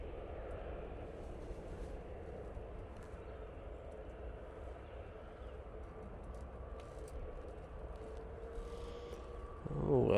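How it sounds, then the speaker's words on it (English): A Ryanair Boeing 737 MAX 8 arriving from Alicante at Manchester Airport: a steady, distant jet engine roar holding evenly throughout, swelling louder in the final second. "this is the Ryanair coming in from Alicante. They're using a 737 MAX 8 for this flight."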